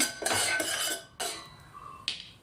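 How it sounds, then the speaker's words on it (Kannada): Cashews roasting in ghee in a pan, with a metal spoon clattering and scraping against the pan in a few quick, close bursts separated by brief pauses. "ಗೋಡಂಬಿನ ಹುರಿತಾ ಇದ್ದೀನಿ"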